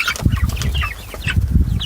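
Thirty-day-old chicks chirp in distress as a chicken tractor is dragged along, with shrill, close cheeps over low rumbling and scraping and fluttering wings throughout.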